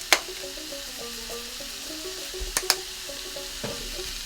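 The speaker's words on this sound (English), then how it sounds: "So the hamburger should be just crumbled, brown cooked" Crumbled ground beef browns in a pan with a steady sizzle, and a utensil scrapes and stirs it in short strokes with a few sharp clinks against the pan.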